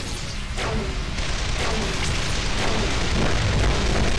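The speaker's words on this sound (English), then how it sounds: "Give me the guns. Plasma gun, fire!" A plasma gun fires in the video game Carrier Command, a loud, continuous run of heavy booming blasts that overlap with no gaps.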